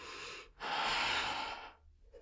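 Slow, close breathing during a yoga flow: a soft exhale, a pause, then a longer, fuller breath, audible and intimate with no talk.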